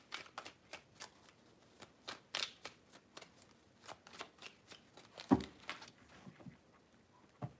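Hand shuffling of a tarot deck, close and quiet, gives a run of short papery flicks and riffles at an irregular pace, with one louder slap near the end.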